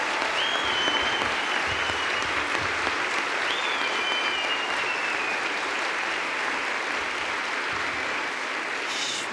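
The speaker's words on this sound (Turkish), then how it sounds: "bu içten alkışı" A studio audience on a Turkish morning television broadcast marking Women's Day claps steadily and warmly for the whole stretch, a thick wash of many hands that neither builds nor fades. A few faint high tones drift above it.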